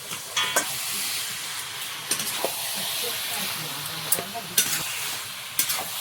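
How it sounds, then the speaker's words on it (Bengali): Duck meat goes into hot spice paste and sizzles steadily and close, with sharp, intermittent clicks and scrapes of a utensil against the pot. "এবার মাংসটা দিয়ে দেবো"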